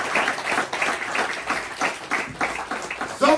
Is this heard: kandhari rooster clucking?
no